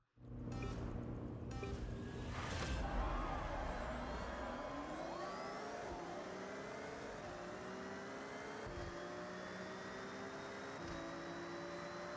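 A Mitsubishi Evo in the racing game Forza Horizon 6 revs hard and climbs through its gears, its engine note sweeping upward and then holding a steady drone, loud and continuous throughout.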